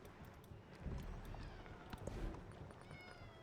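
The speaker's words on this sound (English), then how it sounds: "I wonder if you can actually hear my cat" A pet cat meows faintly in the background of a quiet indoor room. A few soft calls and small noises sit at very low volume.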